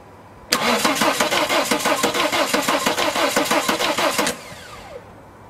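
Volvo D5 diesel engine cranking on its starter during a Bosch CP3 high-pressure pump outlet flow check, a loud, close, rhythmic churning of about four seconds that stops abruptly without the engine catching.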